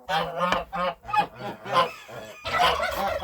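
Farmyard geese honk loudly and close by in a run of repeated nasal calls, several overlapping into a noisy burst toward the end.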